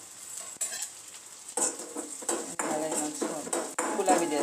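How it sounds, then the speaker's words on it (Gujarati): Edible gum (gond) puffs and fries in ghee, giving an uneven sizzle with repeated scraping and clinking of a spoon stirring the pan. "ગુંદ ઘીમાં સરસ ફૂલી જાય ને"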